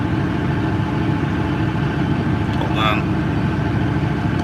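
A John Deere 8850 V8 tractor engine runs steadily at an easy throttle, a continuous low rumble throughout with a brief voice over it near the end.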